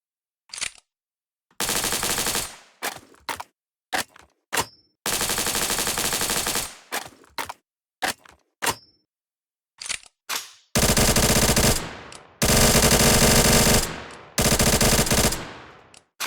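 Double barrel shotgun fire in the video game Project Speedkills, sharp loud blasts in irregular bursts, some single shots and some longer sustained roars separated by silence, with no talk.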